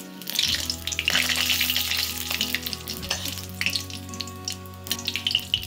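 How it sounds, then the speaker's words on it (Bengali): Dried red chillies frying in mustard oil in a hot karahi, a close, steady crackling sizzle with bursts of popping and stirring, beneath a low background hum. "এবার এর মধ্যে শুকনো লঙ্কাগুলো হালকা করে ভেজে নিতে হবে।"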